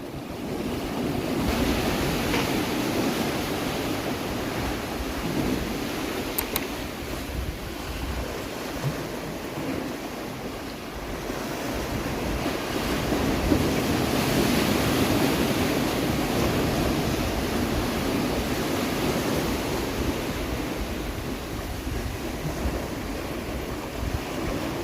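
Rough sea surf breaking along the shore with gusting wind buffeting the microphone, a continuous wash of noise rising and falling over the whole stretch, no speech.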